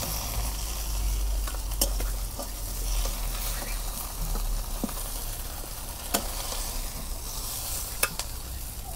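Bata fish fries in hot oil in a pan, giving a steady, dense close-up sizzle with scattered crackles and occasional sharp pops, and no voices over it.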